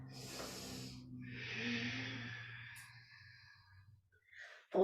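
Breathing during a hatha yoga sequence, with a long audible exhale or sigh that fades over several seconds, followed by a sharp, loud breath at the end.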